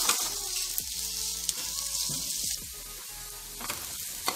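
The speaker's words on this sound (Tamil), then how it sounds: "இந்த ஆனியன் வந்து நல்லா கோல்டன் ஃப்ரை வர வரைக்கும் நம்ம வந்து நல்லா இது ஃப்ரை பண்ணிக்கலாம்." Chopped onions fry in hot oil for a bread cheese sandwich filling, producing a steady close sizzle broken by a few stirring knocks and scrapes, with nobody talking.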